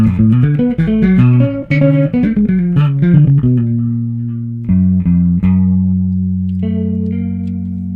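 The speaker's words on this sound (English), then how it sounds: "It's also giving a sort of lo-fi detuned kind of vibe, which I really like. So the stack itself sounds like this." A synth line runs through a Malyan and Modalics plugin effect stack, giving a lo-fi, detuned character. Quick notes give way to long sustained tones, loud and up front with no talking.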